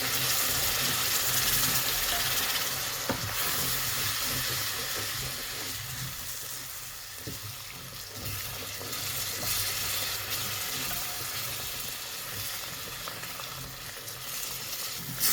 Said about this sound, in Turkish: Ben böyle yavaş yavaş azar azar kepçeyle ilave edip karıştıracağım.